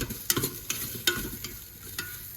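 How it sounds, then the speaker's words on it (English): Small pieces of sweet and sour pork tossed and stirred inside a Ninja Foodi air fryer, several distinct scraping knocks in an uneven rhythm against a soft sizzle, close by with no talking. "Let's give that a little mix around."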